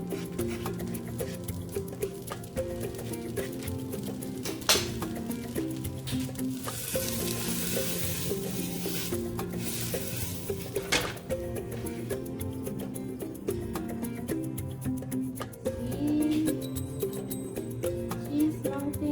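Butter sizzling steadily under a quesadilla in a hot pan, a continuous close frying crackle with a few faint clinks, no voices.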